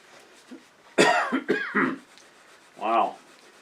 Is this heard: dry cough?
yes